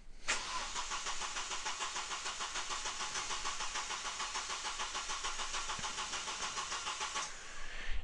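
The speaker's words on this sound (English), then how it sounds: "then it asks me to crank the engine again," A car engine cranks steadily for several seconds during a relative compression test, the starter motor's rapid rhythmic churning continuing without the engine catching.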